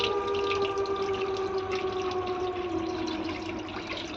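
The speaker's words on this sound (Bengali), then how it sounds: "এই দেখি রাত্রির বারোটার সময় কলে জল আসছে" Water flows from a tap at midnight, a steady close splashing rush with a sustained tonal whine running through it and no voices.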